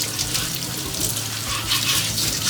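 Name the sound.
carrots scrubbed under running tap water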